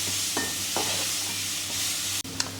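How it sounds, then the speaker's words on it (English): Leeks and carrots are stir-fried in a pan for chicken and shrimp nasi goreng, with a continuous loud sizzle and several scraping strokes as the vegetables are moved around, and a sharp clack near the end. "we need to cook this for a couple of minutes to soften up both the leeks and the carrots, and keep moving it around"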